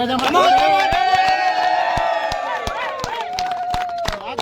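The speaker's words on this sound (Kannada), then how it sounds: "ಚಪ್ಪಾಳೆ ತಟ್ಟೆ ಆಯ್ತು" At a Parle Agro cup cricket tournament in Mysore, scattered hand claps ring out in a loose rhythm while a crowd murmurs and voices call out over them.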